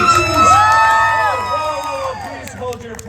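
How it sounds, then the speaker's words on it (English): A crowd cheers and whoops loudly with high, excited voices, a dense burst that holds for about three seconds and then eases slightly toward the end. "Please hold your applause."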